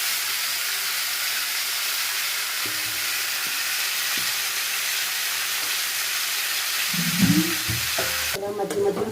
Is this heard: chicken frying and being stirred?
yes